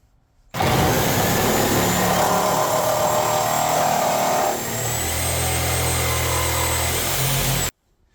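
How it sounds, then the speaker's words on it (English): A reciprocating saw fitted with a Milwaukee carbide demolition blade cuts through wood with embedded nails, a loud continuous buzzing rasp with a steady whine that runs for about seven seconds, then stops abruptly. "Now we have the Milwaukee carbide blade versus the wood with nails."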